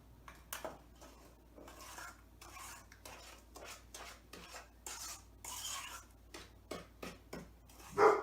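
Flour is stirred into brownie batter in a bowl, making repeated scraping, sloshing strokes of a utensil against the bowl in a steady rhythm, close and clear, ending in a louder knock.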